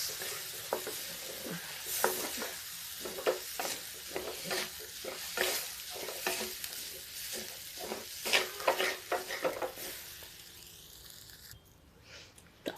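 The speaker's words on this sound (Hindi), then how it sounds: "इसको इतना भूनेंगे कि थोड़ा महक आ जाए" Broken wheat (daliya) dry-roasting in a pan on a gas stove while being stirred, a steady sizzling scrape broken by repeated crisp rustling strokes of the spoon, close and continuous with no voices.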